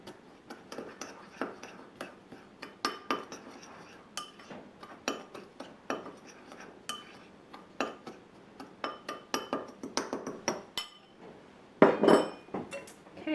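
A utensil clinks and scrapes against a bowl while brown sugar and cinnamon are stirred together, a quick irregular series of light taps and knocks, close and clear with no talk.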